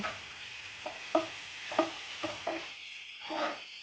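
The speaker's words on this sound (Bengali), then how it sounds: "এখন সবগুলো উপকরণ মশলার সাথে খুব ভালোভাবে মিশিয়ে কিছু সময় ভেজে নিচ্ছি" Shrimp chop mixture of spices and ground soaked chickpeas being stirred and fried in a pan, a quiet sizzle broken by a handful of soft scraping stirs at uneven intervals.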